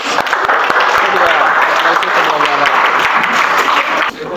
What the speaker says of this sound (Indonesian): Tepuk tangan untuk Joyce.